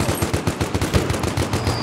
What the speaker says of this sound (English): One machine gun.